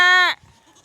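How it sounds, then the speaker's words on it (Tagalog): A single loud, close bleat from an Anglo Nubian cross goat on a farm, one strained cry lasting about a third of a second before cutting off into near silence. "Mga kambing natin dito."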